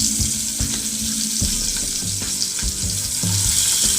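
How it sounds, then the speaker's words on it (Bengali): Pabda fish sizzles as it fries in hot oil, a constant hissing crackle with soft scraping and stirring knocks from the pan, steady and close with no voices. "আমি মাছটা ভেজে নেব।"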